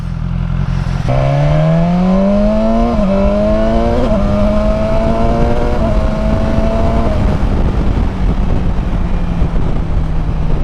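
A 2019 BMW S1000XR motorcycle engine revs up from idle, its rising whine climbing in stepped pulls toward the rev limiter at about 7,000 rpm, then holds loudly before dropping back to a close, steady idle.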